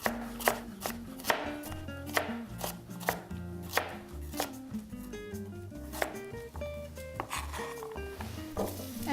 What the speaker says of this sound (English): And then I have 2 carrots here. So I'm going to cut them in half first.